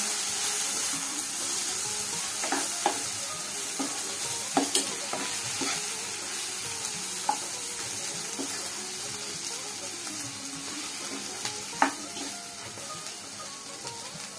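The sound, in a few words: stirring masala bhindi (okra) in a pan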